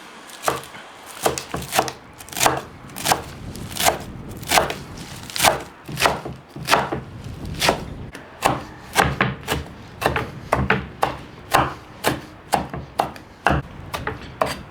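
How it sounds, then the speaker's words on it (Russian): A knife chops fresh herbs for kutab on a wooden board in a steady rhythm of sharp, close thuds that repeat for the whole stretch. "Нарезаем и не мелко, не крупно, средне."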